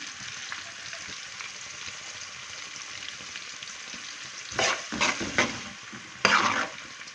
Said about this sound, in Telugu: ఉల్లిపాయ ముక్కలు అయితే ఎర్రగా ఫ్రై చేసుకోవాలి.